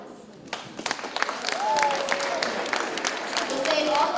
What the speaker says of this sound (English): We'll save all clapping to the end.